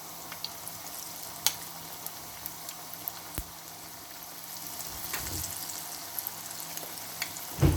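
Potato pakoras fry in hot oil in a pan and are stirred, giving a soft, steady sizzle broken by scattered clicks and scrapes, with a louder clatter at the end.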